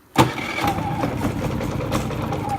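A Predator 3500 watt inverter generator cranks and catches in a garage, then settles into a loud, steady running hum with slight echo, no talking.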